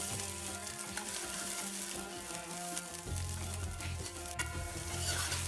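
Onion hits hot oil in a pot and sizzles steadily, a soft continuous crackle with faint stirring, no voices.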